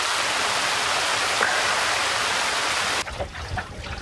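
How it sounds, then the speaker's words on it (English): Heavy rain pours down in a dense, steady hiss with no voices, cutting off abruptly partway through into a quieter patch of scattered drips and splashes. "It's quite heavy, the rain now."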